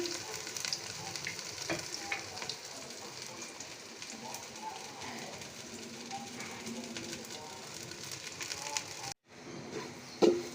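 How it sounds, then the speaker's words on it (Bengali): Sliced onion rings fry in hot oil on a clay stove, giving a continuous crackling sizzle with faint background noise. The sound briefly cuts out before a final clatter. "তেলটা অলমোস্ট গরম হয়ে গিয়েছে এ পর্যায়ে দিয়ে দিচ্ছি পেঁয়াজ"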